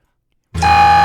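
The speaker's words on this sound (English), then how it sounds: "there's another alarm." An electronic alarm abruptly starts after a moment of silence, a loud steady tonal beep with a buzzy edge that holds without pause.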